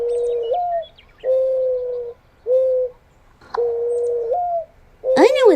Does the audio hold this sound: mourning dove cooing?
yes